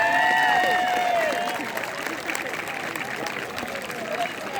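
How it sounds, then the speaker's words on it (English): Applause and crowd noise greet senior football players at a school recognition ceremony, a loud burst at first that settles into steady, softer clapping. "Big round of applause for all of our senior football players."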